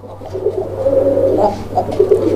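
A Rajgolla fancy pigeon in a cage coos close and loud in a low, throaty, wavering call that rises and falls over a steady low hum.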